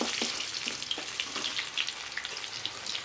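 Onions sautéing in a pan for tomato rice with cinnamon and bay leaf, a soft continuous sizzle broken by faint scrapes and stirring taps, close and alone with no talk.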